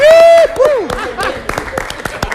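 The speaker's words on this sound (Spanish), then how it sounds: "Vamos, Loco, un aplauso" Loud, close applause after a tonal whistle-like sound, with sharp claps breaking out from a small group and continuing in uneven bursts.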